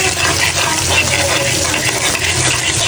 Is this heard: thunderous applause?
no